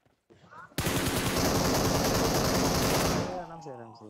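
Sustained automatic gunfire in the PUBG Mobile video game roars loud and continuous for a few seconds after a brief quiet start, then cuts off as a voice begins speaking.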